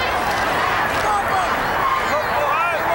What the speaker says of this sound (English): Big crowd and a loud one, as you could tell.